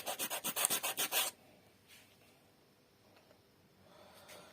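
A small wooden piece for a toddler's homemade recycled toy is sanded by hand, giving about ten rhythmic, close rasping strokes in a quick run, followed by quiet room noise with faint handling sounds.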